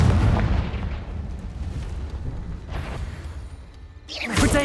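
In the Hogwarts Legacy video game, a Confringo fire spell goes off with a loud, booming blast that rolls on as a continuous rumble, followed by a sharp whooshing burst near the end.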